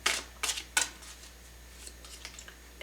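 Tarot cards are shuffled by hand in a few crisp, papery riffles up front, then lighter scattered flicks, close and fairly quiet with no talking.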